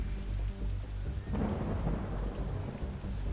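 Steady heavy rain and a deep rolling rumble of thunder fill a Rollercoaster Tycoon 2 game scene. Both hold loud and continuous for the whole stretch, with no talking.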